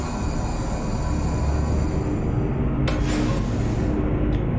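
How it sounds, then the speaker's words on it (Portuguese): Road traffic heard from a truck cab in Euro Truck Simulator 2 with a sound mod: a steady, loud rumble of engines and tires, then a brief rushing whoosh as a vehicle passes close by. "Olha só esse som do tráfego, hein?"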